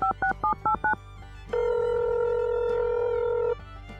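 In a Minecraft game, a phone is dialed with five quick, clear keypad beeps, followed by a single long ringing tone, heard close and with no voices.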